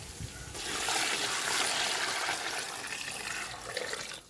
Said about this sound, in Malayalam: അരി വേകാനായിട്ടുള്ള വെള്ളം നമുക്കിതിൽ വീത്തി കൊടുക്കാം